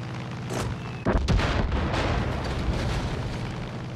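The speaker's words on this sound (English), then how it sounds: "I think we can just drop the bombs." Bombs dropped from the air in Far Cry 5 explode with a loud close blast followed by a heavy rumbling boom and lingering roar of debris and fire.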